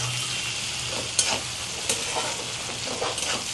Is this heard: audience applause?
no